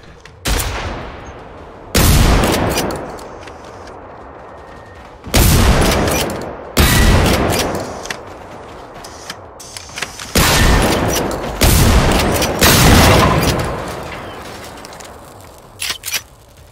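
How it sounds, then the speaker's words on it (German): A pump-action shotgun in Generation Zero fired until empty, loud separate blasts spaced a second or two apart, each followed by a decaying tail, about six shots in all with gaps between them. "Pump Action leer geschossen."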